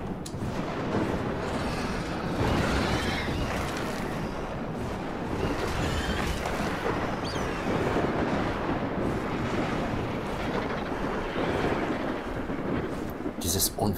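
Stormy weather in the video game ARK Survival Ascended, a continuous rushing roar of wind and rain filling the background at moderate level, with people talking over it now and then.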